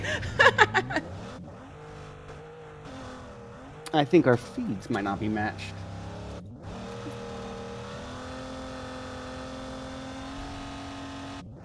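Car engine sounds from PUBG Mobile rev and shift with tire noise, while a person talks over the steady motor drone.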